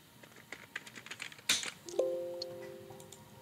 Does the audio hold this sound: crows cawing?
no